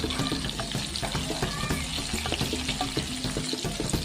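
Stuffed brinjal curry (guthu vankaya) frying in a pan as it is stirred, giving a steady, dense sizzle with scattered clinks throughout, under a constant layer of tonal background sound and no talking.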